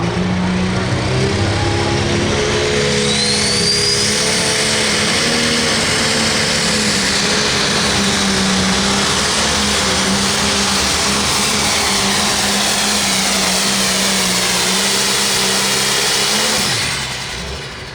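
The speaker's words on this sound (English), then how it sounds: "Now Tom Gallett's in the seat out of Jefferson, Wisconsin, with a tractor called Runnin' Red Hot." A pulling tractor named Runnin' Red Hot roars at full power during a 9,500 lb Limited Pro tractor pull in Monticello, Iowa, a loud continuous engine drone with steady harmonics that holds for most of the run before easing off near the end.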